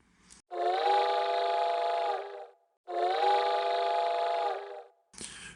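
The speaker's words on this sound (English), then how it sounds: "he heard the distant sound of the train's lonesome whistle coming from behind" Two long, steady steam-train whistle blasts with a rich chord of tones, each lasting about two seconds, separated by a short pause; sounds somewhat distant.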